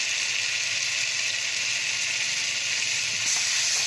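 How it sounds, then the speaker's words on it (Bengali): Tomato paste sizzling in frying masala for a keema aloo dum, a steady bright hiss held close and loud without a break, with no talking over it. "এবার আমি এতে একটু দু চামচ টমেটো বাটা দিচ্ছি"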